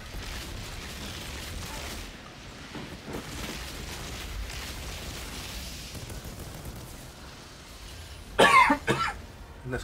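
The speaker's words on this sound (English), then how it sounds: "And this cough is annoying too." A character coughing in an Outriders game, one loud cough burst near the end over a constant rumbling background of game ambience.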